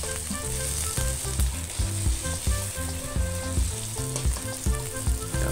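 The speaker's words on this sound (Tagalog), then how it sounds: "pwede na rin po natin isunod ang ating sibuyas. Yan, ang ating onion." Onion fries in a pan for menudo with a loud, continuous close sizzle, broken by the clatter of stirring.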